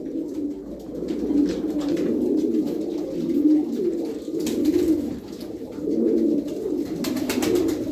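Several pigeons coo inside a box, a continuous low rolling chorus that swells and dips in overlapping waves for the whole stretch, close by and alone.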